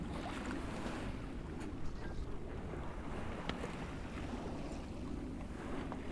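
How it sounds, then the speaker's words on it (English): An Italia Yachts 12.98 cruiser-racer sails in about 6 knots of true wind off Port Ginesta, Barcelona, under main and jib. A steady rush of wind and water noise with microphone buffeting continues throughout, and no one speaks. "Just been sailing along here in about 6 knots, true wind, with the white sails"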